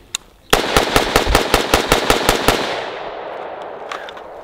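A rapid string of about ten loud, sharp gunshots from an unsuppressed short-barrel CMMG Dissent in .300 Blackout with a muzzle break, fired close by outdoors, followed by a lingering echo tail.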